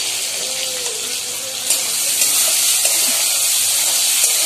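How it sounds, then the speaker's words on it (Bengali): Potatoes with tomato and green chilli fry in a pan, a steady loud sizzling hiss that continues without pause, with faint clinks now and then. "এবার আলুগুলোকে আমি ভালো করে একটু ভেজে নিচ্ছি"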